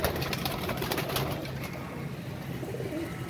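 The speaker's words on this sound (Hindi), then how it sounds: "सब नए परों पे कबूतर हैं" Pigeons coo steadily and close by, a dense mix of soft rounded calls with occasional wing flutters, and no voices over them.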